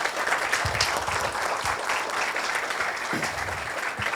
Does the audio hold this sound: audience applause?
yes